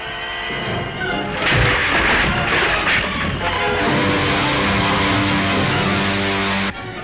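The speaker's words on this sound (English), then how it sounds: "They're trying to bomb us." Bombs dropped from a spaceship explode as a sound effect in the Flash Gordon Conquers the Universe serial: a loud, sustained roaring rumble of blasts with tonal music running underneath, ending abruptly near the close.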